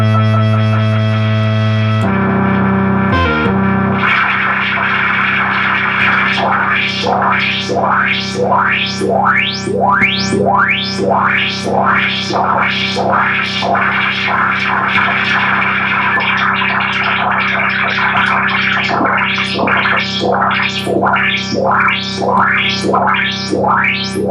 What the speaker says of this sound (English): we can engage noise into the filter through modulation